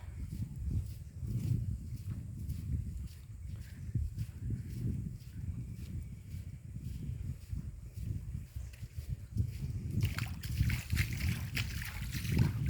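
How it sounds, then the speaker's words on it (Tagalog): Water splashes and sloshes rhythmically as someone wades through a river, steps churning the current at close range, fairly quiet overall. "Sugsug tayo ng ilog."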